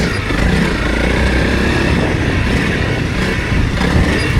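A 300 Rally dirt bike engine roars loud and close as it rides through whoops, a steady throbbing drone with slight surges in revs and wind rush.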